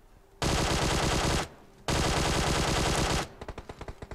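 Automatic rifle fire from the mobile battle-royale game PUBG Mobile: two long, loud sustained bursts separated by a brief pause, then a quicker string of distinct single shots at the end.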